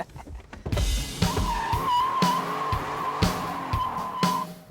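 A Chevy S10 Xtreme pickup's engine roars during a burnout as tires squeal in a sustained high whine, loud and close, with bursts of revving throughout.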